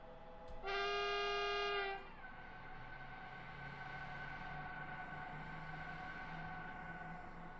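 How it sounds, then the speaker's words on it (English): Regional train stopped at Murnau station, a loud two-tone horn-like chime sounding for about a second, then a steady low hum and faint tonal whine of the idling train. "We have arrived at Murnau station."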